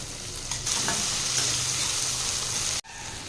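Tomatoes sautéing with salt in a pan for an egg masala kulambu, a steady close sizzle and crackle with occasional stirring scrapes, then a brief sharp dropout near the end before the frying resumes.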